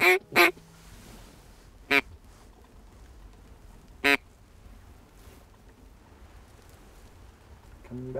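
Ducks quack in scattered loud bursts on smartweed water in the Sandhills, a double call at the start, then single calls near two and four seconds and another as the clip ends, with quiet marsh ambience between.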